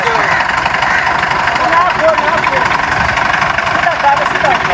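A farm tractor pulling a trolley loaded with timber, stuck in a ditch, idles with a loud, steady, close diesel rumble and faint knocking, while someone talks over the engine.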